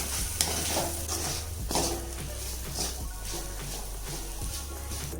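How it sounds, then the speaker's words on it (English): Cooked rice being stirred into tangy puliyogare tamarind mix in a pan with the heat switched off, giving soft scraping and shuffling with faint sizzle and a few light utensil knocks, steady and close. "Just to mix the rice."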